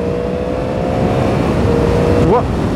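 A 2022 Yamaha MT-10 roadster engine revs high under acceleration, a loud steady drone with a quick upward pitch sweep near the end as it climbs through the revs.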